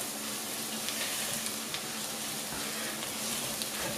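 A steady, hissing sizzle of garlic frying in a pan, constant and fairly soft throughout.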